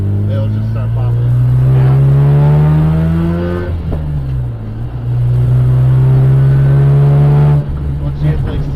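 A Mazda RX8 engine revs loud and close in two climbing pulls, each rising then briefly dropping off, with a deep rumble underneath.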